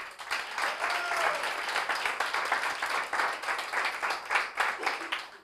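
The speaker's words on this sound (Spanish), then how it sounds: "Un aplauso para ellos." A group at a company training session applauds bonus winners with steady, moderately dense clapping that carries on for several seconds in an indoor room.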